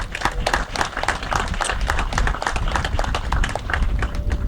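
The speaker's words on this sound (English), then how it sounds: "So I say we give a round of applause just for that." Outdoor applause from a crowd gathered at a historic bridge dedication at a campground, with distinct individual claps in irregular rhythm, fairly close and lively, lasting several seconds.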